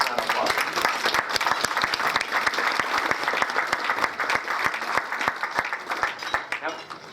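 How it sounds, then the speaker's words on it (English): An audience at a Jefferson Jackson Day political dinner breaks into sustained, lively clapping, with crowd voices and speech mixed in underneath throughout. "Let's give a round of applause."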